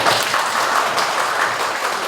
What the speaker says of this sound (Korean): 박수 한번 다시 한번 부탁드리겠습니다